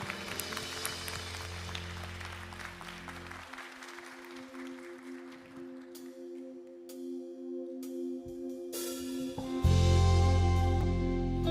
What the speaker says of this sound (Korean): 그 주님께 우리 모두 감사와 영광의 박수 올려드리시며 함께 찬양하시겠습니다